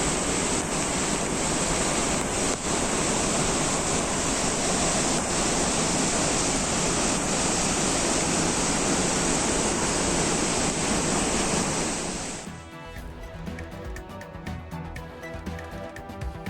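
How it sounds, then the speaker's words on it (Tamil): Dudhsagar waterfall in the Western Ghats of Karnataka gushes as a loud, steady rushing roar for about twelve seconds, then drops away as soft music takes over. "மேற்கு தொடர்ச்சி மலையில் பசுமைக்கு நடுவே பொங்கி வழியும் நீர்வீழ்ச்சியை காண குவியும் சுற்றுலா பயணிகள்."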